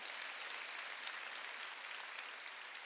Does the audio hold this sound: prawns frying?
no